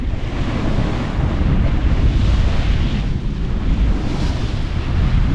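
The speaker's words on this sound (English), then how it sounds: "here's us just sailing along" A sailboat runs under a single reef in bouncy conditions, with heavy wind buffeting the microphone and a loud, steady rumble of rushing water and waves.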